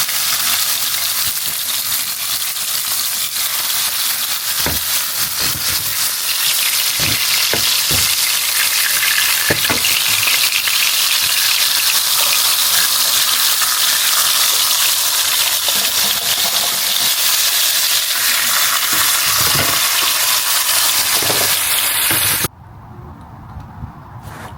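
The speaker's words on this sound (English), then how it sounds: "I added a bit of oil to this so I can fry this bacon" Bacon spits and sizzles loudly in oil in a pan, a dense steady crackle with scattered pops and clicks, cutting off abruptly near the end to a quiet background.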